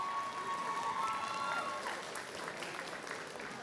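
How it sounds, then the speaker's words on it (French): A cosplay contest audience applauds the technical team: a broad, sustained crowd clapping with some cheering, heard from a distance and moderately loud, fading slightly toward the end. "Je souhaite quand même qu'on applaudisse bien fort donc l'équipe technique."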